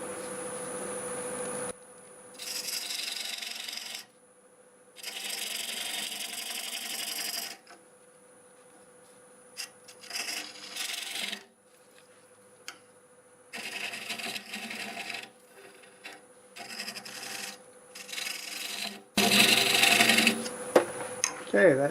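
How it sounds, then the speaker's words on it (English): A dovetail tool cuts a dovetail into hard olive wood spinning on a lathe, giving bursts of rasping, scraping noise separated by quiet gaps and a steady motor hum, loudest toward the end. "I grab my dovetail tool and we'll cut a dovetail on it."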